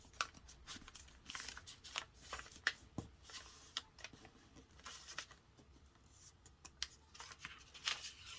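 Paper is folded by hand to form the head of an origami jet paper airplane, giving soft, close, irregular crinkles and creases scattered throughout with no talk.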